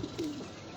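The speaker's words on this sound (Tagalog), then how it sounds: "Ayun, guys, isa namin kalapati." Pet pigeon cooing on a rooftop, a soft, low, throaty coo heard close by, short and quiet.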